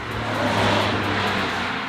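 A Jeep drives past outdoors, its engine roaring loudly and steadily with a broad rushing tire and exhaust noise that swells slightly in the middle, with no voices.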